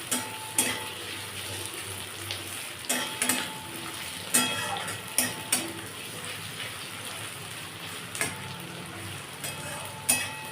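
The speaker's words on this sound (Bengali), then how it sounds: "পেঁয়াজটা ভাজা ভাজা হয়েছে" Chopped onions frying in a pan for a pointed gourd mince curry, a soft continuous sizzle broken by repeated clinks and scrapes of a spatula stirring against the pan.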